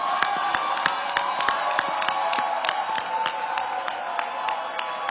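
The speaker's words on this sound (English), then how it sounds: "Okay, now we applaud." A large audience at an education event applauds and cheers, with dense clapping spread across the room and sharp individual claps standing out, holding a steady level throughout.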